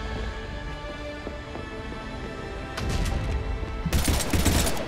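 Pistol gunfire in Mass Effect 3 rings out in bursts over a steady droning game soundscape, growing denser and louder toward the end with rapid cracks layered over low rumble.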